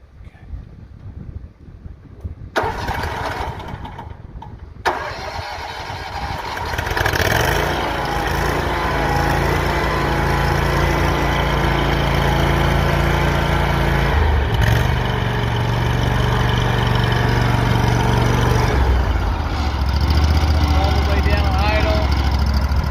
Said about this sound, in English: So I'll go ahead and crank it up for you so you can listen to that gutsy motor.